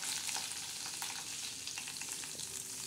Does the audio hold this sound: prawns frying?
yes